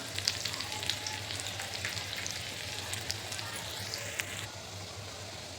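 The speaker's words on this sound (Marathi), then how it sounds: "तेल तापलेलं आहे आता ह्यामध्ये बारीक कापले कापलेला लसूण घालायचं" Finely chopped garlic sizzles and crackles in hot oil for a tempering, a close, steady frying hiss with scattered pops throughout.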